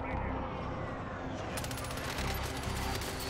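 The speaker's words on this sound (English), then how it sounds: "I'm getting shot from the right." Automatic gunfire in a Call of Duty: Warzone match, a dense continuous fusillade that grows sharper and more rapid partway through, with faint voices underneath.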